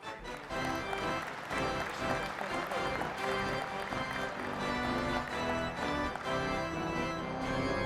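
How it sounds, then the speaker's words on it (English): Sustained audience applause fills a large convention hall at the 2021 American Legion National Convention, a dense, even wash of many hands clapping at a distance and continuing without pause. "Please give a round of applause for the 2021 American Legion Eagle Scout of the Year, John Mcphee."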